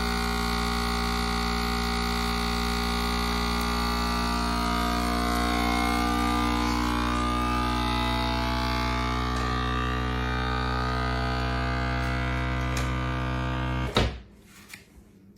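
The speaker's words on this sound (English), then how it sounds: "lock it, press vacuum. And it's gonna take all the air out of it." A vacuum sealer's steady motor hum drones continuously for about fourteen seconds as it draws air from a bag, then cuts off abruptly, followed by a few brief clicks and handling noises.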